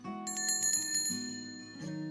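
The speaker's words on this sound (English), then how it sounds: "every decision was celebrated with the ringing of a cheerful bell" Cheerful bicycle-style bell ringing in repeated bright metallic trills, clear and close, with no talking.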